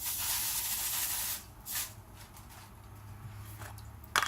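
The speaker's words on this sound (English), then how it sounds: "I'll go ahead and spray my pan." Cooking spray sprayed onto a pan: a long, close hiss lasting over a second, then a brief second puff and a few faint clicks in a quiet kitchen.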